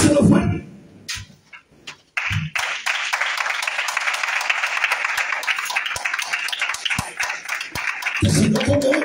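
Congregation in a church applauding loudly and steadily for about six seconds, with a voice speaking briefly before and after the clapping.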